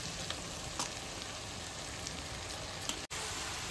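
Ridge gourd pieces drop into a chicken curry that keeps a steady, close sizzle and fry throughout, with a brief dip near the end.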